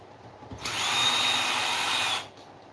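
A power drill loosens brass screws in one close burst of whirring, about a second and a half long, between quiet moments.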